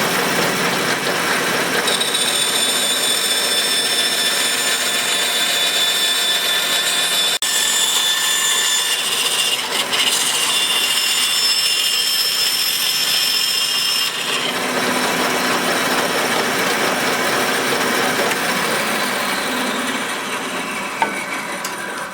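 Power saw cutting a rough pattern out of wood for a decorative shelf, a loud continuous buzzing and rasping whine that shifts in pitch as the blade works through the board, with no talking.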